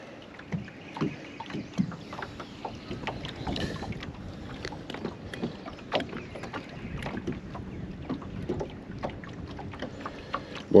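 Wind gusting across a lake heard from a fishing boat, with buffeting on the microphone, small water slaps and knocks against the hull coming in irregular bursts throughout, near and moderately loud with no talk.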